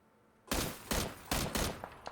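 Gunfire in the video game PUBG: about five loud, close shots in quick uneven succession, each a sharp broadband crack with a short decay, followed by a couple of fainter trailing pops.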